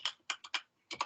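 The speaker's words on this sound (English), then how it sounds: "we can just hear you typing" Bursts of computer keyboard typing, quick clusters of key clicks with short pauses between, fairly close and clear with no talking.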